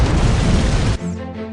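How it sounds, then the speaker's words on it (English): A loud, sustained explosion roar in the Fire Department video game fills the first second, then cuts abruptly to a quieter low rumble with a tonal hum. "Huge explosions spread fire across TMI and destroyed the bridges."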